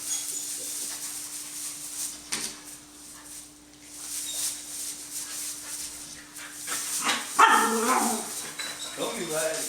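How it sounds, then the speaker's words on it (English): Several puppies bark and yip, mostly faint and scattered early on, then grow louder and busier toward the end, with a low hiss running underneath. "So these are the Sage and Willow pups"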